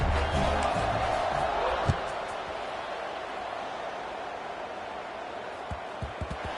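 Steady crowd murmur fills a stadium at a UTEP versus Louisiana Tech college football video game, a broad continuous buzz that eases slightly, with a few soft thumps near the end.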